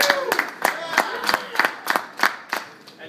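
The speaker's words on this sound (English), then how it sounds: "let's get some clapping." Audience at an EverQuest player panel clapping in a slow, regular rhythm, about three sharp, loud beats per second repeated steadily throughout, close and prominent in a room.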